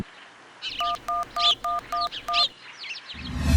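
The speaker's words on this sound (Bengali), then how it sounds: "বড়বাবুকে একবার ফোন করে দেখি কেসটা কতদূর এগোলো।" Seven evenly spaced keypad tones from a phone as a number is dialed, short clear beeps in a quick steady rhythm in a quiet room, followed by a rustling noise.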